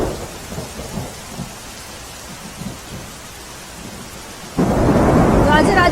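Heavy, unbroken rain pours steadily during a Gujarat downpour, then swells abruptly into a louder, denser roar of rain with a deep thunder-like rumble near the end.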